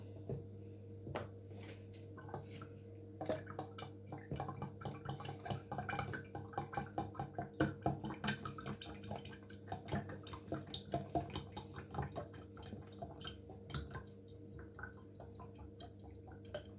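Oil is poured into a bottle through a funnel while a lava lamp is made at a school, giving a steady trickle with bubbling glugs and splashes that swell and fade over the background hum.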